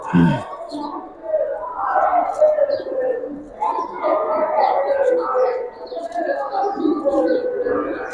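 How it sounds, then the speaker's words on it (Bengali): Several Giribaz pigeons coo in low, throaty, overlapping calls, continuous and fairly close, with a brief sharp sound at the very start. "প্রত্যেকটা কবুতর ভালো ডাকলো প্রত্যেকটা কবুতর আজকে"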